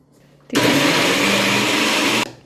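An electric mixer grinder runs on cooked lentils and tamarind paste for kandi pachadi chutney. It starts abruptly after a quiet moment, whirs loud and steady for under two seconds, then stops.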